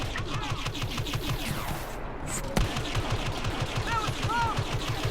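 Rapid blaster fire from an A280C rifle in Star Wars Battlefront on Bespin, steady repeating bursts of shots mixed with game effects and a brief pause, with a player talking over the action.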